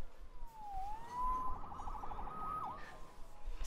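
A police siren in the video game Marvel's Spider-Man wails in rising and falling sweeps, steady and moderately loud over a low background rumble.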